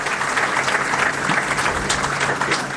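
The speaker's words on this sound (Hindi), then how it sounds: "राजभवन का सभागार तालियों से गूंज उठा" Applause fills the Raj Bhavan hall at the swearing-in of Telangana's first chief minister, a dense, continuous clapping from a large gathering that holds loud and even throughout.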